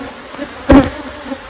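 Agitated honey bees in a hive treated with Formic Pro hum in a low steady drone, with one loud close buzz swelling briefly in the middle as a bee passes near.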